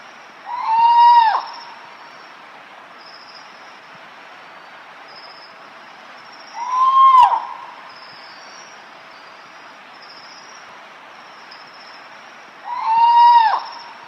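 A forest eagle owl calls three times at even intervals several seconds apart, each a short rising-falling hoot-like cry, moderately loud against a quiet background.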